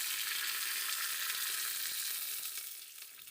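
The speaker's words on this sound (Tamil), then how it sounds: "எண்ணெய் ஊற்றி கடுகு போட்டுக்கலாங்க." Mustard seeds in hot oil, tempering a Nellore-style garlic chutney, hiss loudly and steadily with faint crackles before the sizzle eases off near the end.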